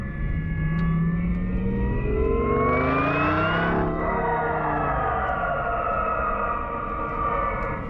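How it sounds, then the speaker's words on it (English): In comfort mode the BMW i8's artificial engine sound is a loud synthetic drone with rising, siren-like tones that swell and then fall away over a low rumble, with no talk. "now in comfort mode, we get a little bit of engine sound."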